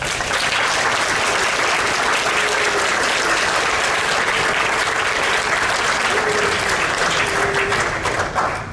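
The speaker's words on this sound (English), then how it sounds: "Can we give these teachers a round of applause?" A graduation audience in a large crowd applauds the teachers with loud, continuous, even clapping that holds steady for the whole stretch, with faint voices mixed in.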